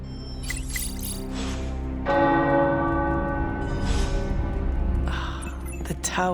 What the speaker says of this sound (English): tower bells are ringing